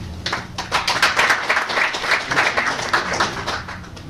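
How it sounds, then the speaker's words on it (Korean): Audience applause welcoming a speaker at a special lecture, dense steady clapping from a roomful of people, fairly loud and sustained with no voices over it. "그 뜨거운 박수로 맞아주시기 바랍니다."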